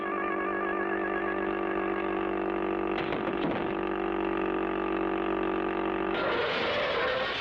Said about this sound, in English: Clutch and Company started by handcar for Polecat Bend